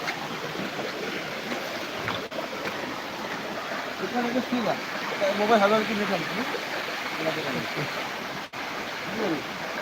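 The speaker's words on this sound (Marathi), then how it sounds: "बघा पाणी" Water rushes steadily near a cliff top in a constant broad wash, with people talking over it.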